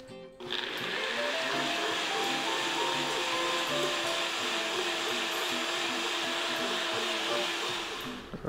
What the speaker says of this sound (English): We're going to puree this up very quickly.